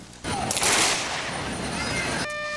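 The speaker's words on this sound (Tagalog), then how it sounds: "tatlong beses na pinaputok ang kanyon" A loud booming blast from a ceremonial cannon at a state funeral erupts and rolls on with a long, noisy decay, echoing outdoors.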